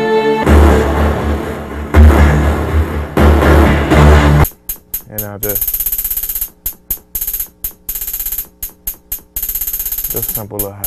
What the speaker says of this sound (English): And then I added a scream and a gunshot.